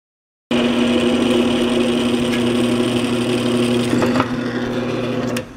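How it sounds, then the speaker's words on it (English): A drill whines steadily as it bores a pilot hole in a Sewer Slinger 25 build, a loud continuous motor tone that starts abruptly, shifts slightly partway and cuts off near the end. "We've got this one last hole to pilot drill"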